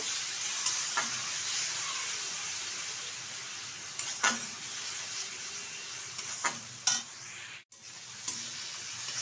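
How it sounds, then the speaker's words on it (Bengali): A ground paste of cumin, coriander, chili, garlic and ginger frying in a pan, a soft steady sizzle with a few scraping stirs, close but fairly quiet. "এখন এর মধ্যে দিয়ে দেবো বেটে রাখা এখানে জিরে, আর আছে ধনে, লঙ্কা আর রসুন আর আদা। ভালোভাবে কষিয়ে নেব।"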